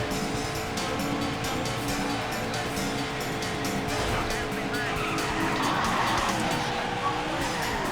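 Arcade racing game engine roar and tire skids from Daytona USA HD, a steady loud engine drone with squealing slides building toward the end, with faint game sounds layered throughout.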